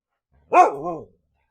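A single short bark from Leica, a pet dog, close and loud with a rising then wavering pitch, standing alone against silence.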